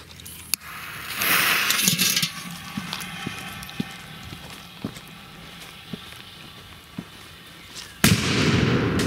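Firecrackers set off on a pot outdoors, with a sharp blast near the start, a string of small popping cracks, and a louder burst near the end over crackling background noise.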